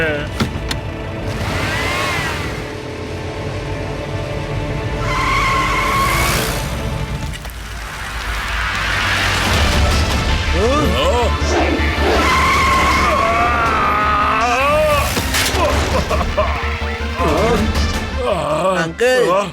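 A jeep races and skids in an animated story: a loud engine drone runs under repeated squealing tire slides, while excited voices talk over the action throughout.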